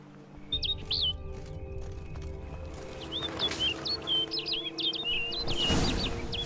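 Birdsong from a bird in The Witcher 3 rises over a low ambient drone: bright, quick chirping calls come in a brief burst, then a denser run of repeated tweets grows louder toward the end.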